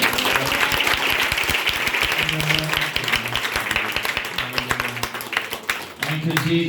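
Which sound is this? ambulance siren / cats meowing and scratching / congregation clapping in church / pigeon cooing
congregation clapping in church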